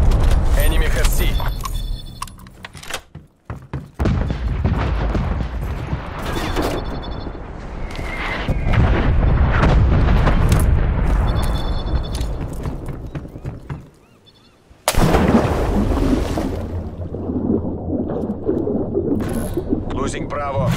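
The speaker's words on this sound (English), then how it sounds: "Net call, incoming artillery." Heavy artillery rounds from a barrage burst repeatedly in Call of Duty Black Ops Cold War, loud broadband blasts and rumbling impacts piling up over several seconds, mixed with battlefield noise while a voice talks over them.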